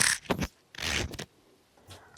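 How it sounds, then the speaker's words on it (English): The zipper of a beekeeping suit is pulled in several quick, raspy strokes at close range, with short pauses between pulls and no voices. "I'm going to bring up my main zipper"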